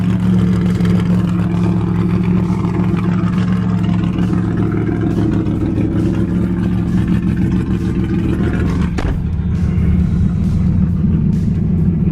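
Steady, loud engine drone of a Ford Mustang GT rolling out of a garage, a continuous low rumble with no talk over it and a brief bump near the end.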